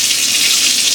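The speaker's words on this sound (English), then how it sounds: "I'm also just gonna go on and put some hot water in the sink for soap" Hot water runs from a kitchen tap into a sink in a steady, close, full-bodied hiss that holds even throughout with no voices.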